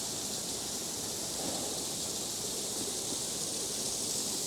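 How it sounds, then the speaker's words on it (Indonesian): A small waterfall spills down beside a cliff near a mountain bridge, producing a steady, even rush of falling water with no voices. "Sebelah kanan tebing, jadi udah ada air terjun mini."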